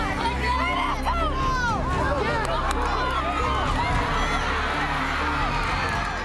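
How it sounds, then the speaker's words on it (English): Home fans cheering at a youth football game, a loud, dense crowd roar with shouting children and overlapping cheers that keeps up steadily throughout. "gave the home fans plenty to cheer about"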